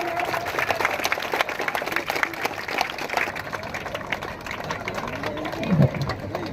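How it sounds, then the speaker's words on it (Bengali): A crowd clapping at a flag hoisting at a high school ground before a district sub-junior kho-kho championship, sustained dense applause with background murmur throughout. "সবাই হাততালি দাও।"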